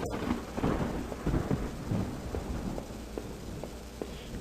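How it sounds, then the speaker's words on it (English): Rain falls in the horror video game Home, a steady hiss with a low grainy rumble and a few soft taps. The sound is fairly loud and continuous with no voices. "Oh wait, that's rain."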